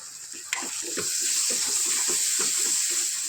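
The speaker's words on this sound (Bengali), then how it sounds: "অনেকক্ষণ নাড়াচাড়া করে মশলাটা কষাতে হবে" A spice masala sizzles and fries in a pan, with a steady hiss under rhythmic scraping strokes of a spoon stirring it, close and continuous.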